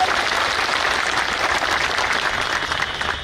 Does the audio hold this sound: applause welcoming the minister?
yes